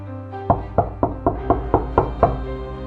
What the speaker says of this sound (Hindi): अचानक उनके घर का दरवाज़ा किसी ने खटखटाया